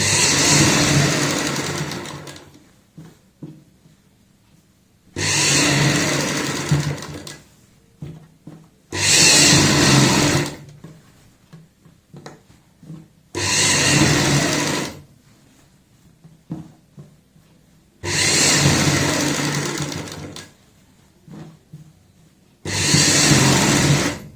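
A sewing machine stitching the neckline of a kurti in six separate runs of whirring, each a couple of seconds long, with quiet pauses and small handling noises between them.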